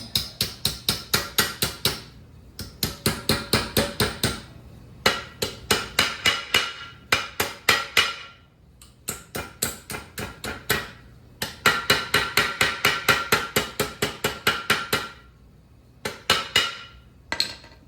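A hammer strikes a sheet metal car body seam held over a steel jack stand, ringing out in quick bursts of sharp metallic taps separated by short pauses, close and clear.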